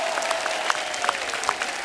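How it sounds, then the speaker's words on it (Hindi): Studio audience applause on a comedy show, a steady patter of many hands clapping for a couple of seconds, with individual claps standing out. "इनके लिए जोरदार तालियां"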